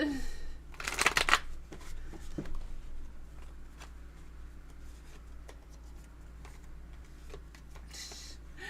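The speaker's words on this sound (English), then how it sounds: "We're going to shuffle it." A deck of tarot cards is shuffled close by in one quick riffling burst, followed by quieter handling clicks and taps.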